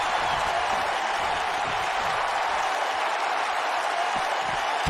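A capacity arena crowd in the WWE 2K19 wrestling video game roars in a dense, continuous wash of cheering and applause, loud and steady throughout.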